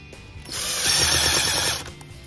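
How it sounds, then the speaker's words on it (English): A screw being driven into the edge of an MDF board for garage cabinets, a single steady whirring, grinding burst of about one second from a power driver, close and fairly loud, with no talk. "we're just gonna put a couple of screws in it"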